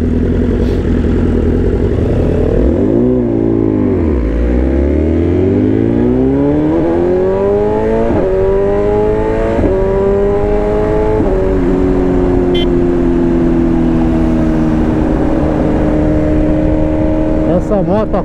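A motorcycle engine revs hard while riding, its pitch sweeping up and down through repeated throttle changes, then settling into a loud, steady high-rev drone, close and continuous throughout.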